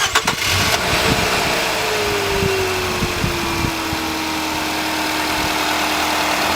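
A car engine is started with a portable jump starter: a short cranking burst, then the engine catches and settles into a steady, loud idle with a falling whine.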